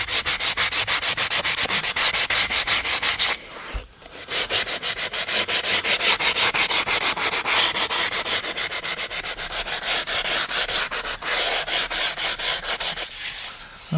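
Steady back-and-forth rasp of sandpaper on the stile and rail edges of a wooden door, close and rhythmic, with a brief pause before the sanding resumes at an even pace.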